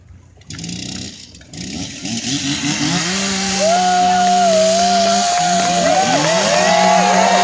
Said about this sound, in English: We're going to give these guys a second to warm up their chainsaws.